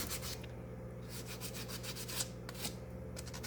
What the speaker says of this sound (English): The putty dried, I give it a quick sanding on the damaged leg